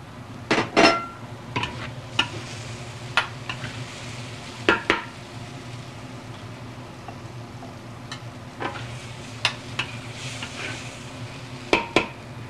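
Shrimp pad thai stirred in a frying pan, with a low steady sizzle under repeated sharp metal clanks and scrapes of a utensil against the pan, close and fairly loud.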